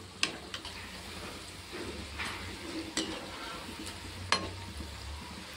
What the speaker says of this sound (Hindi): लो फ्लेम पे फ्राई करने से अंदर से अच्छे से फ्राई हो जाते हैं।